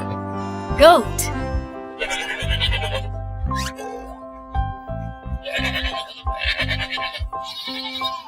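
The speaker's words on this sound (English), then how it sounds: "Goat." A goat bleats in repeated short bursts over a light children's song, its quavering calls recurring through the music.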